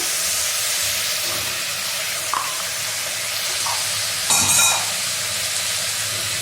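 Mixed vegetables, chayote among them, sauté in a pan for South Indian vegetable kurma, giving a steady close hiss and sizzle with brief stirring scrapes and a sharper burst of sizzling near the end; no talking.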